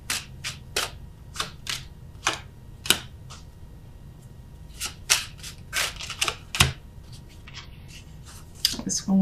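Tarot cards are laid down one after another on a table, making a series of sharp, close, papery slaps and flicks at an irregular rhythm, with faint background hum.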